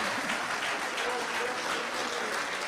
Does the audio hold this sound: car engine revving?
no